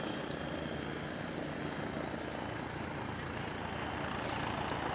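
A helicopter flying during a night display at the Radom 2023 air show, a dense, steady rotor and engine roar that fills the air at constant loudness with no talk.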